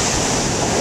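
Huge ocean waves crash and surge in a continuous loud roar of surf, with wind buffeting the microphone and no voices.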